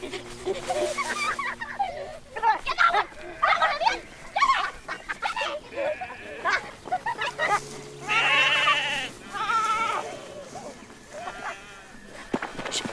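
A person bleats in imitation of a sheep, letting out several wavering, quavering calls between bursts of talk and brief pauses in an outdoor scene.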